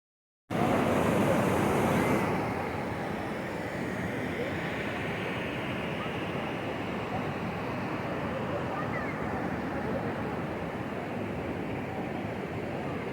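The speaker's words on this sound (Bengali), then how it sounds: "এই যে জল ছাড়া যে দৃশ্য, এই জল ছাড়ার দৃশ্য আমরা খুব খুব সুন্দরভাবে অনুভব করছি এবং দেখছি।" Water released from the Mukutmanipur dam, a dense, steady roar of rushing water that starts abruptly with a louder hiss, then settles into an even, continuous rumble.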